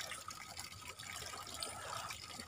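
Spring water pours steadily from a hole in a tank beside a river, a continuous splashing trickle close by with no voices.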